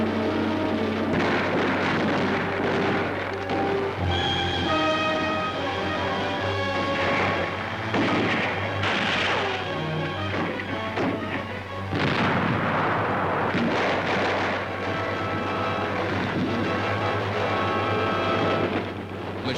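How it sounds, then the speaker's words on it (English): Mortar and machine gun fire from the 1944 Marshall Islands battle, heard as repeated heavy booms and bursts of gunfire in a dense, loud, continuous din from an old wartime film soundtrack. "Mortar fire is constant, devastating."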